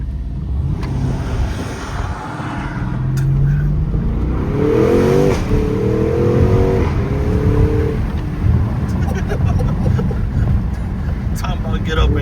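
A Porsche all-wheel-drive SUV pulls away and takes a corner, its engine note rising steadily under loud, continuous road and wind noise, with a voice talking over it throughout.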